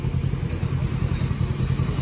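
The engine of a welding machine runs at a rough, steady idle nearby, a loud low chugging drone with rattling clatter that holds constant throughout.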